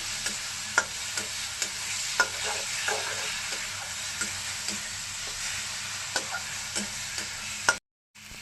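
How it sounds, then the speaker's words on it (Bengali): Potatoes fry in a spice paste with oil released around the edges, a steady sizzle broken by regular scraping stirs of a spoon against the pan, loud and close, with a brief cut near the end. "এখন আমি আলুটা দিয়ে দেবো। ভালো করে কষিয়ে নিচ্ছি।"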